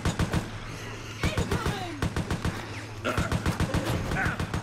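Rapid gunfire bursts in Resident Evil Operation Raccoon City, repeated sharp cracking shots in quick rhythmic volleys with brief pauses, fairly close, over a low game hum.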